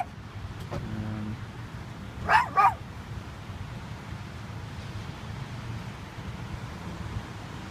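A dog locked inside a car with the windows up gives a couple of muffled barks and a short yip, heard from outside over a steady low background hum.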